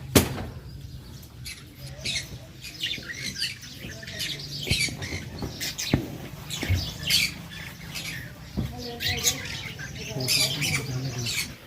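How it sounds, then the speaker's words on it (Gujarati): Sparrows and parrots in a bird house at Umiya Dham Sidsar squawk and chirp repeatedly, a busy cluster of sharp calls at close range with faint rustling and flapping between them. "અલગ અલગ ચકલીઓ ને પોપપાટ ને બધું છે."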